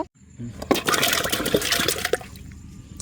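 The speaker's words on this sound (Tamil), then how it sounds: "தண்ணி எடுத்துகிட்டு தான் நாங்கள் சேர்க்கிறோம் கிழங்க." Water splashes and gurgles into a pot for boiling cassava in a burst of pouring that tapers off, with a few faint knocks.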